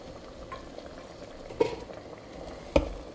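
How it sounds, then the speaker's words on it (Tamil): A lentil curry with chicken simmers to a boil in a pot, a soft continuous bubbling hiss broken by two sharp clinks of a spoon, close and fairly quiet. "இப்போது பாருங்கள், கொதி வந்துருச்சு"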